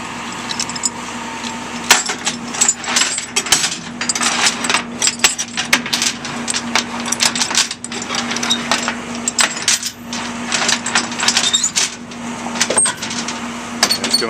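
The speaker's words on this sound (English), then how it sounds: "It's going to ratchet them tight." Chain binders ratcheting chains tight on a container load, a busy run of metallic clanks and rattles over a steady engine hum, fairly close and continuous with uneven rhythm.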